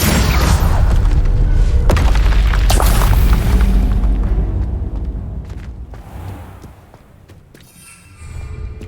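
Spell explosions in the video game Hogwarts Legacy: heavy, loud booming blasts and rumbling impacts fill the opening seconds, then fade into quieter crackles before another surge near the end.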